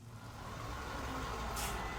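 Inside a video game, a bus arrives with a steady low engine rumble that grows gradually louder and closer, ending with a brief hiss like an air brake.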